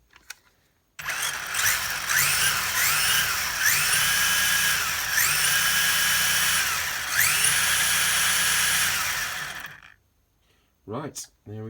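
The brushless motor of a Tamiya XV01 RC rally car on a new ESC and 2S LiPo spins up with a loud, high-pitched whine. It rises and falls in repeated bursts of throttle for about nine seconds, then cuts off.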